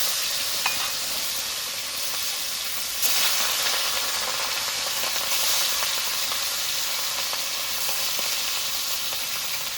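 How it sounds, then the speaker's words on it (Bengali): Rohu fish frying in hot oil gives a steady, close hiss and crackle of sizzling that swells slightly partway through and then carries on evenly, with no talk. "মাছগুলো দিয়ে দিয়েছি মাছগুলো ভাজা হতে থাকবে"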